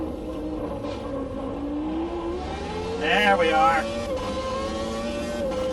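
A race car in the Automobilista 2 video game revs up through the gears, engine pitch climbing steadily with a brief shift, loud and close, while someone talks briefly over it.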